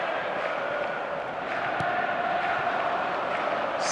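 A virtual stadium crowd in eFootball murmurs restlessly as a steady, broad wash of noise, with no sharp cheers standing out.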